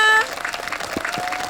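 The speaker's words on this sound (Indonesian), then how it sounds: "Tepuk tangan semuanya." Audience applause at an outdoor children's school quiz event in a park in Solo, a dense burst of many hands clapping that follows a brief tone and continues steadily to the end.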